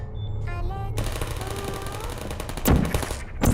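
Live gunfire in a Portal test course: dense rapid shots from about one second on, rattling steadily with a louder burst near the end, following a brief tonal electronic passage.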